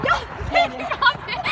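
A small dog yips and barks several times in quick succession, close by, with a person talking over it.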